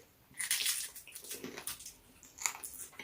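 Someone chewing Jamaican water crackers during an eating challenge, crunchy wet bites in bursts with short gaps, close and fairly clear, no talk over it.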